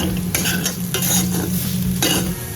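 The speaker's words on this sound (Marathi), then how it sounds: "बटाटा छान असा फ्राय झालेला आहे" Potato pieces fry and sizzle in a pan while being stirred, with a steady crackle and repeated scraping strokes of a spoon against the pan, loud and close, and no speech.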